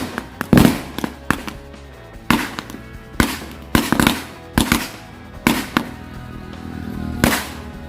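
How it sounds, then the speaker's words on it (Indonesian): Happy Thunder and matchstick firecrackers go off outdoors in a string of about ten sharp, loud bangs at irregular intervals, some overlapping, with crackle between blasts and no talking. "Itu dia hasilnya dari berbagai jenis mercon korek dan juga berbagai jenis mercon Happy Thunder"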